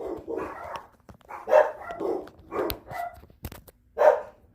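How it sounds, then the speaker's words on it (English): A dog barks repeatedly in short, irregular bursts, fairly close, with a few sharp yips between barks. "Coco Chanel, what are you barking at, crazy lady?"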